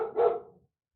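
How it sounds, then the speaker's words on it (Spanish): A small dog gives one short, close bark that fades quickly into silence. "Disculpen lo del perrito."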